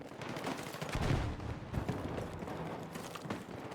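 Gunfire in Battlefield 6, a quiet, rapid patter of distant shots that swells briefly in the middle and then continues as a low, uneven rattle.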